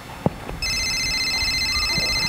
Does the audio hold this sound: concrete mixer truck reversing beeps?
no